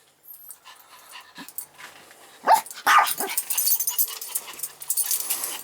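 A dog named Molly barks in short bursts mixed with whimpers and panting. The sound is moderately close and of middling loudness, with rustling household noise around it. No one speaks.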